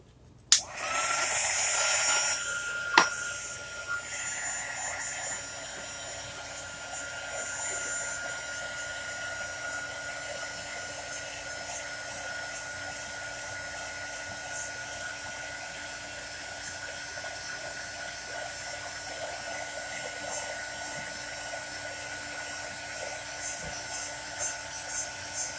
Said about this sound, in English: So if you're sensitive to the heat gun, I'm using an embossing gun.